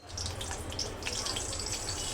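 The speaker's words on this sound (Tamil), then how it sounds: "இதுக்கு இப்போது கொஞ்சம் தண்ணி நிறையா விட்டுக்கலாம்" Water poured into an onion chutney, a steady watery splash and trickle running continuously at close range without any talk.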